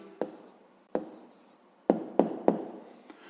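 Pen writing out the answer to a fifth-grade math exercise, several short scratchy strokes with sharp taps between pauses, close and clear.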